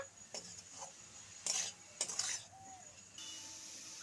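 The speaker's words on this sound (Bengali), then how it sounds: "হলুদ লবণ কাঁচা লঙ্কা শাকের সঙ্গে খুব ভালো করে মিশিয়ে নেব।" A spatula stirs red spinach with turmeric, salt and green chili in a pan, making a few short scraping clinks and light shuffling scrapes against the metal over a quiet background with faint sizzling.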